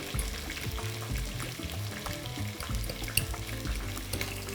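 Meat browns in a frying pan with a soft, irregular sizzle and occasional stirring clatter, close up and quiet.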